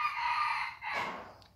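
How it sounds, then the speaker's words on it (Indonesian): A rooster crows once, loud and close, its drawn-out call rising then trailing off over about a second and a half, with no talking. "Dan itu adalah suara ayam berkokok."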